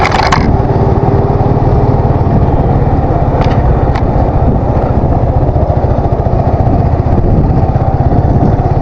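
A motorbike riding along the Hatirjheel road, its engine a steady, close, unbroken drone with a low rumble throughout, and no talking.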